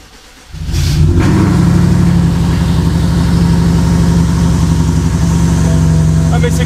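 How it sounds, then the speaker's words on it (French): A BMW F10 550i engine cold-starts with a sudden surge of revs, then settles into a loud, steady, rumbling high idle that holds throughout, with voices faintly audible nearby. "Ah mais c'est le cold start, c'est normal."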